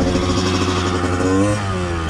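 A cold Honda CR125 motocross motorcycle with a steel frame idles steadily as it warms up, a close, even engine drone that rises briefly in a small rev near the end.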